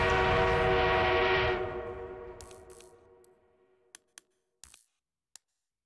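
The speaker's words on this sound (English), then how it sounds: "The enemy is being reinforced with an armored train." Armored train in Battlefield 1 sounding a loud, long horn blast that fades out over several seconds, followed by a few sharp distant clanks or shots.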